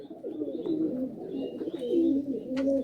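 Malwai and Madrasi pigeons in a cage make soft, low, rolling coos that run steadily and close by, with faint higher chirps over the top and no talking.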